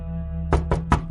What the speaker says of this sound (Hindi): अगले दिन अमन के दरवाजे पर जोर से दस्तक होती है।